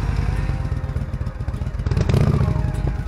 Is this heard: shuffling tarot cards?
no